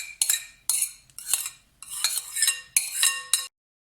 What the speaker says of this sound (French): tu étales ta petite préparation sur ta pâte feuilletée